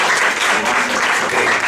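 An audience claps loudly and steadily throughout a retreat session, a dense continuous burst of applause close by with no talk over it.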